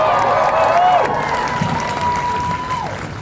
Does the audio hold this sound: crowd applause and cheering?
yes